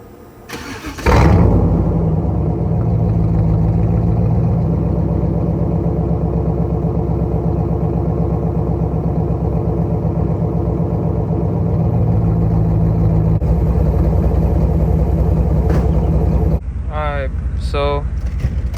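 A 1995 Camaro Z28 V8 engine with the heater core bypassed cranks and catches, then settles into a loud, steady idle close by; a voice speaks briefly near the end.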